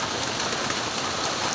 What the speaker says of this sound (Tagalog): Basa na siya guys. Ulanan.